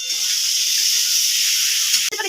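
Paneer pieces frying in hot oil in a home kitchen, a loud, steady close sizzle and hiss that holds unbroken before a brief clatter at the end.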